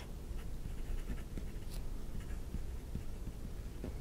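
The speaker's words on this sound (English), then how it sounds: "So let's take a look and do a little writing sample here." A Delta Fusion 82 fountain pen with a rigid medium nib writes across paper, giving a steady, close scratching and soft patter of strokes that runs continuously throughout.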